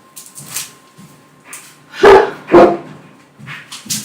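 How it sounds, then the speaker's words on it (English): A dog gives a few sharp barks and yips indoors, with two loud barks in the middle and fainter whimpers and yelps around them. "see what my dog's barking at"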